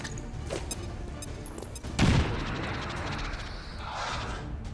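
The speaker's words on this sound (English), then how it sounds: "let's go ahead and throw this grenade" A grenade explodes in the video game XCOM 2 with a single heavy boom over a steady background of game noise and ambience.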